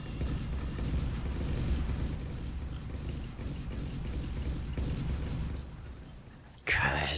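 Cannons in the Forts RTS video game fire a sustained artillery barrage, a dense continuous roar of blasts and rumbling impacts, ending in a sharper burst.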